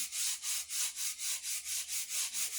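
A detail sander smoothing vise marks on a McClung Co. True Temper axe, a close, loud rubbing sound in an even rhythm of about a dozen back-and-forth strokes, with no talking.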